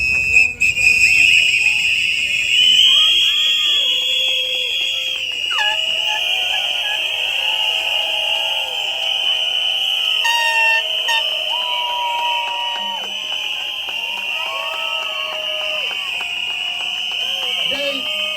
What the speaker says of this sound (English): 10 seconds of whistle for them who passed away